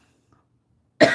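A single loud, abrupt cough bursts out after about a second of near silence, from someone who has a cold, close to the listener and heard on its own.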